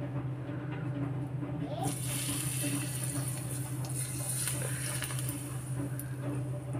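Sizzling, hissing hot oil poured over enoki mushrooms begins partway through and continues steadily, a bright crackling wash over a low hum, close by with no talking.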